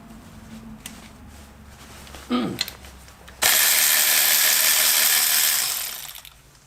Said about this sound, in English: Let's see if it could break a lug nut off.